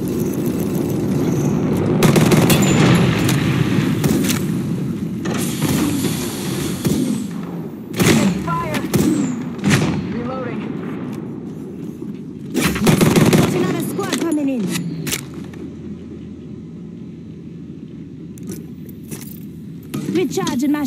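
Gunfire from the video game Apex Legends crackles in repeated bursts, with loud volleys near the start, middle and around thirteen seconds, over a steady game soundscape with voice callouts throughout.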